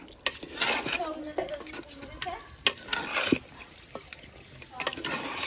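Rabbit meat roasting in a pan with two chopped medium tomatoes is stirred in a home kitchen, with repeated scraping strokes and a clatter of utensil against the pan over a low sizzle, close and moderately loud.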